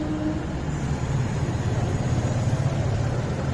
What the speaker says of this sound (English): this is how the Nissan Magnite 3-cylinder non-turbocharged 72 PS engine sounds from the outside